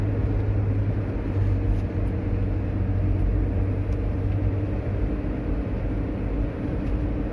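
Steady low engine drone and rumble of a Hyundai Trajet with automatic transmission climbing a hill, held in third gear near 3000 rpm, a continuous loud hum with road noise and no talk.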